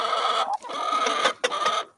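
A backyard flock of hens and roosters clucks loudly and close by, with overlapping harsh calls in two or three bursts separated by short gaps.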